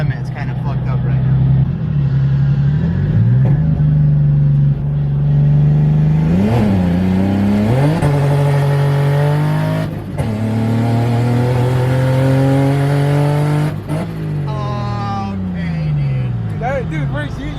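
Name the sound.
turbo BMW E36 engine revving while driving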